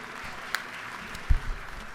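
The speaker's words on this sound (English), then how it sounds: "we want to give you a round of applause" Faint, thin applause in a state House legislative chamber during a morning session, a scattered patter of claps with a couple of louder single claps, heard from a distance.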